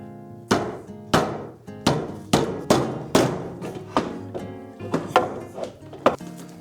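Repeated hammer blows drive pine dowels together during a desk glue-up, about a dozen sharp wooden knocks at an uneven but steady pace, close and loud with nothing else heard between them.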